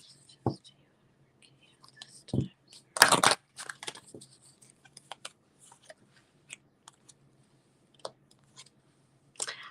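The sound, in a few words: shuffling tarot cards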